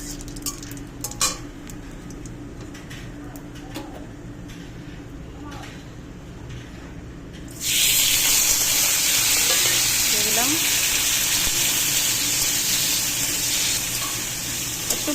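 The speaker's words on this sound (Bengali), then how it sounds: "একটু রাঁধুনি ফোড়ন দিচ্ছি একটু" Radhuni spice seeds tempering in hot oil in a home kitchen break into a loud, steady sizzle halfway through, after quieter clinking and stirring. The sizzle holds bright and continuous to the end, close by and alone.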